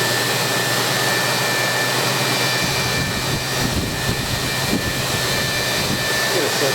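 An electric belt sander runs continuously with the belt moving, a loud, steady high-pitched whirring drone with a constant hum underneath and no pauses.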